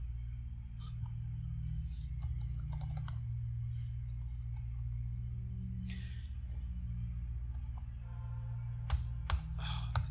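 Clicking keys on a computer keyboard, a steady stream of soft taps and a few sharper clacks over a constant low hum.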